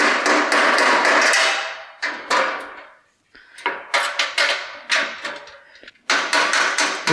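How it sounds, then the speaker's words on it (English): Repeated hammer blows on a 5/16 bolt during work on an abandoned 1956 Chevy, sharp metallic strikes in uneven bursts, some rapid and clustered, close and loud with brief pauses between. "An actual hammer tends to be better."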